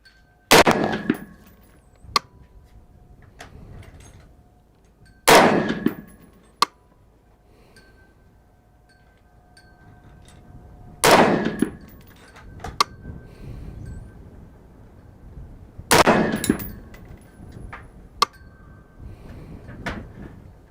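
A WK180c Gen 2 rifle fires five rounds at a target, each shot a loud, sharp crack with a short ringing tail, spaced several seconds apart, with faint clanks between shots.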